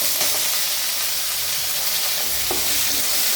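Chopped small onions (shallots) frying in a pan for hotel-style mutton sukka, a steady loud broadband sizzle with faint stirring knocks, close up and continuous, no voices.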